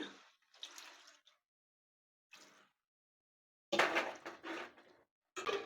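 Water splashes into a pan of egg curry with tomatoes and salt in short bursts, separated by silent gaps, with one longer, louder pour near the end.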